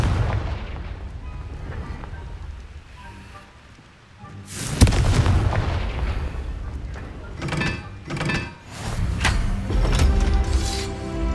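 Confringo fire spell in Hogwarts Legacy, loud booming explosions and crackling blasts that swell and recur over rumbling game ambience, without speech.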